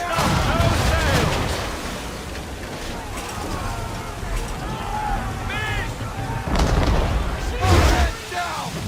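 Ship cannons fire broadsides in Assassin's Creed 3 as booming blasts burst out, the loudest near the start and again near the end, mixed with shouted crew orders and rumbling sea ambience.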